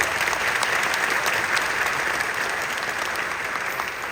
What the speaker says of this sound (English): we just need to just give a big applause to all of these donors and sponsors